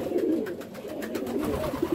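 Pigeons coo continuously in a coop being cleaned and dusted with livestock powder, a steady low murmur of overlapping coos filling the space at close range.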